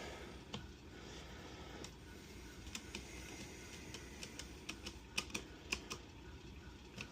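Buttons on a CRKD guitar controller click in quick, irregular bursts, sharp light taps close up over a quiet background, sometimes several in rapid succession.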